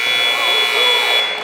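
A high school basketball game buzzer sounds loud and sustained at the end of the first quarter in a Melrose vs Somerville holiday championship, a steady electronic tone under crowd and commentator talk before cutting off.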